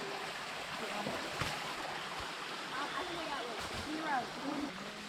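Water pours steadily down over a beaver-built dam beside a flooded area, a continuous close rushing wash with faint birdsong-like chirps over it.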